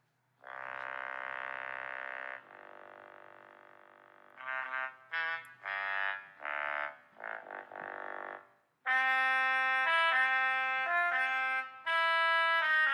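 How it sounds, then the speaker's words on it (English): Trombone playing a brassy tune, starting with long sustained notes, then shorter bursts and a brighter, louder run of notes toward the end, with no talk over it. "A trombone sounds like this."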